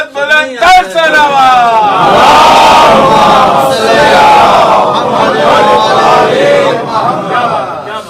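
A large crowd at a religious gathering about Lady Zainab calls out salawat loudly in unison, forming a sustained, roaring chant that swells after a brief opening voice and fades near the end.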